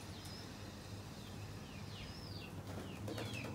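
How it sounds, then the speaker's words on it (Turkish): Pigeons, including tumbler breeds, flutter through the air over a loft, their wingbeats a soft, steady rustle set against a constant low hum of outdoor ambience, while faint bird calls sweep in and out overhead. "Bakın kuşlar nasıl uçuyor"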